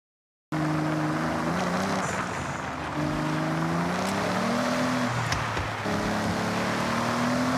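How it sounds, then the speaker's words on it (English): Engine of a barn find car idles and revs in Forza Horizon. It hums as a steady, loud drone whose pitch climbs and drops in waves, with no talk over it. "The sound of the engine is iconic."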